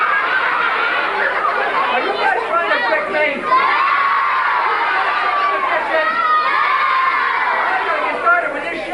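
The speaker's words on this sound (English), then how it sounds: "When you see the flowers, that's when I want you to yell, "Hey, Daisy," but not until you see them." An audience of children yelling together at a live reading show, a loud, sustained crowd of high excited voices shouting and cheering in waves, with a brief dip midway before swelling again.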